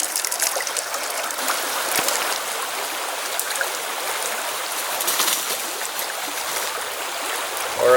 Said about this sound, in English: that water that's flowing right past it's just going to sweep it downstream.